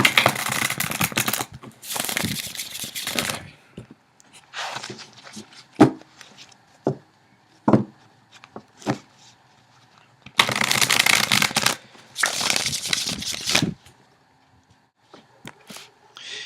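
Tarot cards are shuffled in several loud riffling bursts nearby, separated by quieter pauses with soft taps and handling noises.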